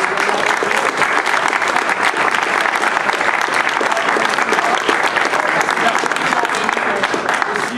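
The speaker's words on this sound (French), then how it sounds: "Et donc, je disais qu'il fallait remercier et applaudir Latifa." An audience at a political campaign meeting in Aulnay-sous-Bois applauds steadily, a dense, even clapping that fills the room and holds at full strength throughout.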